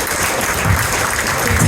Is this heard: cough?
no